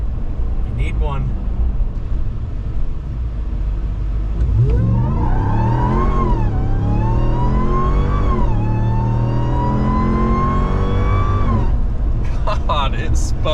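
A RAM TRX truck with an aftermarket JMB intake accelerates hard in very cold weather, its engine revving up in rising sweeps and holding a loud, strained roar heard from inside the cab, with people talking briefly before and after.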